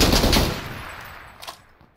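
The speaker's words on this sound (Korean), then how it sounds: "총소리 또 난다" Rapid automatic gunfire bursts loudly in the PUBG battle royale video game, fading over two seconds with one more distant shot near the end.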